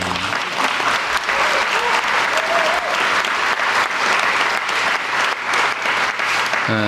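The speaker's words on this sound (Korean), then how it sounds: "이럴 때 박수도 한번 하는 거예요" Applause from the audience at a science and technology policy briefing led by the South Korean president: loud, dense clapping sustained for several seconds, steady and close, with faint murmuring underneath.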